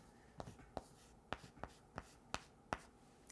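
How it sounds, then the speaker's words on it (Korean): Chinese characters written by hand produce a sequence of about eight sharp, quiet strokes and taps against the page in a loose, uneven rhythm, close-up in an otherwise hushed room. "제가 한문으로 써볼게요."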